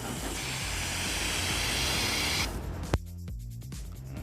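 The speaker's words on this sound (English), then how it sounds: "Turbo Wax Quick Detailer Plus, and we just simply gonna spray it on the top." Turbo Wax Quick Detailer Plus is sprayed onto the top of a car in a continuous close hiss lasting a couple of seconds, followed by a quieter pause and a short sharp click.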